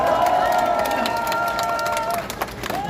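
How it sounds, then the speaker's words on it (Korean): A crowd at a political rally roars with cheering and applause, loud and continuous, with a few voices rising above the din. "한번 여러분 큰 박수로 청해 듣겠습니다"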